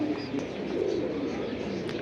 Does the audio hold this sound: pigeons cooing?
yes